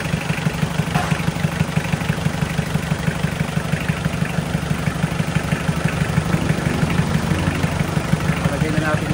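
A repaired Toyota engine idles steadily during break-in after an oil sludge fault, a continuous low rumble with a rough, faintly clattering texture, while voices talk over it throughout.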